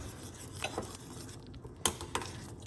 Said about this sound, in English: Mixing the butter